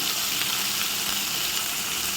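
Fish eggs sizzle steadily in a hot wok of oil, a soft continuous frying hiss held close and even throughout with no voices.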